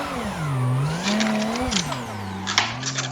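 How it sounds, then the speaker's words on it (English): A Toyota Supra's engine revs and whines in a racing video game, pitch swinging up and down through a tight, tightening corner, with a brief sharp scrape as the car clips the wall near the end. "Oh, definitely hit the wall that time."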